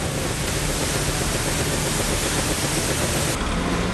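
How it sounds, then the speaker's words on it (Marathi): A steady, loud rush of water pouring like a waterfall beside a landslide on the Mumbai-Pune connecting link road during heavy rain, a dense unbroken roar that fills the whole clip without pause. "धबधब्यासारखं वाहणारं पाणी"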